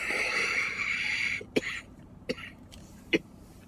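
A woman who is unwell with a cough clears her throat, then gives three short, sharp coughs spaced about a second apart, close and distinct over quiet background noise.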